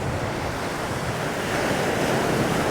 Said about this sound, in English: And it's definitely windy here.